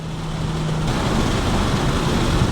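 Raspy, loud exhaust from a 2023 Mustang GT V8 fitted with 1 7/8 in Kooks catless headers, a steady close drone that shifts pitch partway through, with no talking.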